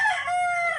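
A rooster crowing in a rural Philippine yard: one loud, close, drawn-out cock-a-doodle-doo call lasting under a second, alone without talk.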